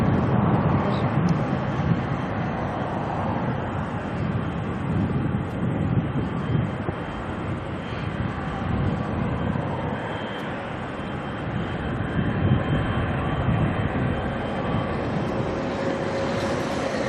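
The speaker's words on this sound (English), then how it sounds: "NZ175 to Perth has just pushed back as well," An Air New Zealand Boeing 787 bound for Perth rumbles with a continuous, moderately loud engine drone after pushback at Auckland Airport, with occasional faint voices underneath.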